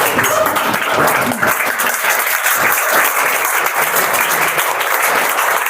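An audience at a motivational seminar applauds, dense and continuous clapping that holds steady and loud for several seconds without letting up.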